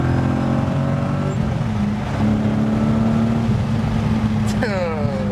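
Heard from inside the cabin, a BMW E30 coupe with a swapped M60B44 V8 drones loudly and steadily, then its pitch climbs sharply under hard acceleration near the end, with voices faintly present.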